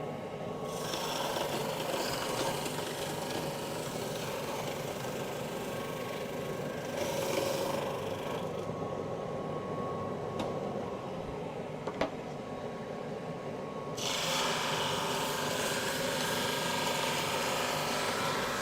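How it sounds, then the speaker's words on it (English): Sanding glued paper off the top of a wooden tongue drum: steady, scratchy abrasive passes that stop for several seconds midway, then start again, close up with no talking. "I'm going to sand the paper off."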